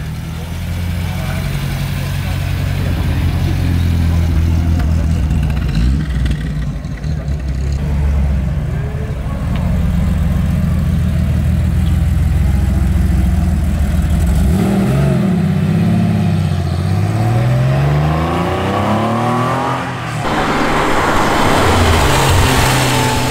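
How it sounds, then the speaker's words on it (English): A Porsche 924 Turbo engine idles, then revs and pulls away, its rumble rising and shifting as it drives off, with a road-noise hiss behind. "Try and grab this 924 Turbo as it bumbles off."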